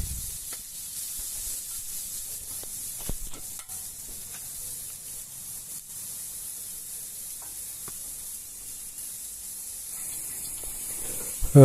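Onions fry in oil in a pan for a Tamil mint egg omelette, giving a steady, soft sizzling hiss throughout with faint utensil clicks and a louder scrape near the end.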